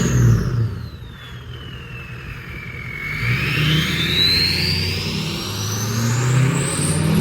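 A car engine fitted with a KC 9-blade Jetfire turbo, its whistle rising and falling and then climbing steadily in pitch over a rumbling, revving engine, loud and continuous with no talk.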